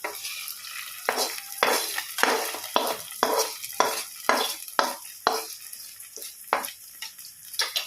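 Ghee-fried cashew tempering is poured into pongal and stirred. A spoon scrapes and stirs through the thick mixture in a steady series of roughly a dozen rhythmic strokes, with a light sizzle underneath and no talk.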